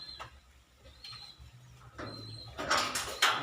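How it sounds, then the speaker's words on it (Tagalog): Pigeons coo and flutter nearby as about five are released, with soft wingbeats and rustling building toward a burst of flapping at the end. "Papakawala ko mga kalapati, siguro mga lima lang"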